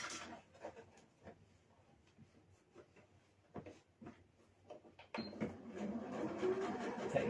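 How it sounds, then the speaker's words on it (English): An Elna 570A sewing machine with a zipper foot stitches fabric pieces together, first as scattered soft mechanical clicks and taps, then a louder steady whirring run of stitching in the final seconds. "Now I sew these bits"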